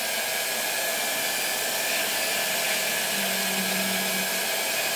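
A power polishing pad works a fire agate stone from Slaughter Mountain with a steady, loud, continuous high-pitched whirring grind that holds even throughout, close up and without any talking.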